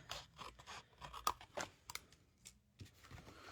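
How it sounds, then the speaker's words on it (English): Paper scraps are trimmed for card making with a series of short, close cutting snips and crisp rustles, irregular and fairly quiet, with no talking. "we're going to trim off those little bits"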